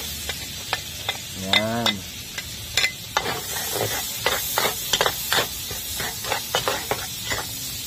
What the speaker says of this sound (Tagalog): lagyan na natin sibuyas at tiin lang natin